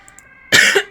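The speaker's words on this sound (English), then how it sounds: "I'm coughing." A person with a mild illness coughs sharply twice at close range, a loud harsh burst followed by a second shorter one, just after faint electronic beeps during a tabletop game session.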